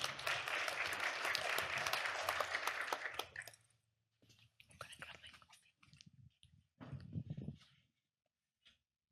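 Audience applause at a talk on AI for climate-smart agriculture, a dense burst of many hands clapping for about three seconds that stops abruptly, followed by faint murmuring and scattered movement in the room.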